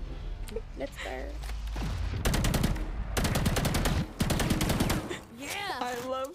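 Bursts of rapid gunfire from a battle royale video game ring out over layered game audio. A player talks excitedly over the shooting.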